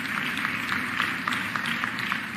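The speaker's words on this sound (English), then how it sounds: "Give them both a huge round of applause." A large audience at a mayor's State of the City address applauds two U.S. senators, with dense, continuous clapping filling a big hall, heard from a distance with a low room rumble beneath.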